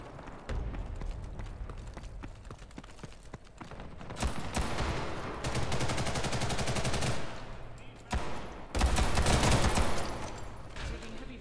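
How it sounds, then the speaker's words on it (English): Heavy automatic gunfire in the online shooter Ghost in the Shell: Stand Alone Complex First Assault, with dense bursts of shots that swell into loud sustained fusillades and briefly pause before resuming. "Taking heavy fire."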